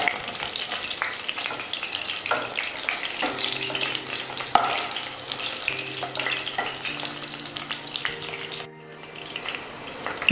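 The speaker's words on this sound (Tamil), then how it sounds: "கத்திரிக்காயெல்லாம் நல்லா ஃப்ரையாக இருக்குது." Brinjal (eggplant) pieces frying in a pan for a Tamil brinjal gravy give a steady, dense sizzle throughout. Faint stirring and some steady tonal hum sit underneath, with no talking.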